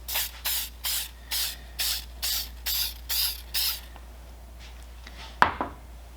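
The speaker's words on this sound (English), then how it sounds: "especially if you're using the spray-on style of layout fluid, because this stuff goes absolutely everywhere" Spray-on layout fluid hisses out of an aerosol can onto an aluminum fan hub in nine short, evenly spaced bursts, followed by a quiet pause and a single sharp clack near the end.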